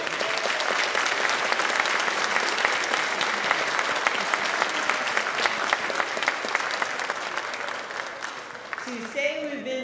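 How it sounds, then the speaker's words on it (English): A crowd at a school district's Innovator of the Year awards claps together in a long, even round of applause, with a voice beginning to speak as it dies down. "give each other a round of applause"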